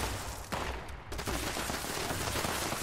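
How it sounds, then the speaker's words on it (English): Nuka grenade explosions in the video game Fallout 76, a dense, continuous crackle of blasts and gunfire with a couple of sharper bursts, loud and close. "Oh no, I'm using nuka grenades."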